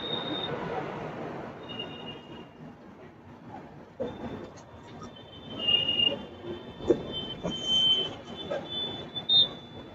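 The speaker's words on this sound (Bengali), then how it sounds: "বিভূতি এক্সপ্রেস কাশি স্টেশন ছেড়ে এগিয়ে চললো 9টা 25 নাগাদ।" The Vibhuti Express pulls out of Kashi station, a steady rolling rumble in the background broken by high, thin wheel squeals that rise toward the end. No one speaks.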